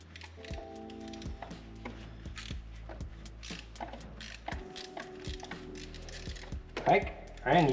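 A ratchet with an extension clicks in short bursts while removing cylinder head bolts on a Toyota Celica TA22 engine, close-up, with sharp taps and metallic clatter and louder clanks near the end.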